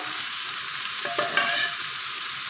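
A spice tempering for bottle gourd dal sizzles and crackles steadily in hot oil, with a few sharp scraping strokes of stirring partway through.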